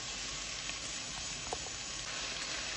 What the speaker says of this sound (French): J'ai mis l'huile au feu, j'ai ajouté l'oignon, j'ai ajouté des petits pois.